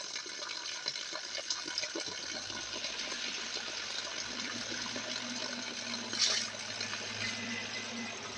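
Spring water flowing steadily in a forest, a continuous soft gush with a brief louder splash near the end, heard alone at moderate level.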